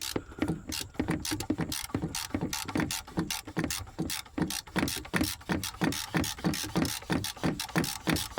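A ratchet wrench with a 24mm socket loosens the oil filter on an overfilled Ram 1500 pickup, giving a close, rapid series of sharp mechanical clicks in quick repeated bursts.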